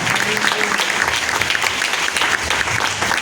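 A church congregation claps together in praise of Jesus, dense and loud rhythmic applause filling the room close by, sustained without pause.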